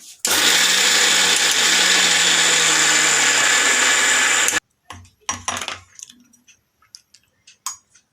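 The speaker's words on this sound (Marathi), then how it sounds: "छोटं भांडं असल्यामुळे इथे थोडं थोडं करून घेते" A kitchen mixer grinder blitzing sesame seeds for til ladoo in a small jar, running loud and steady with a high whine for about four seconds, then cutting off, followed by scattered knocks and rattles of the jar.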